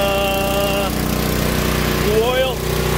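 Coleman Powermate 5000 watt generator with a new carburetor, its engine running loud and steady nearby with a constant hum, while a person talks over it at the start and near the end.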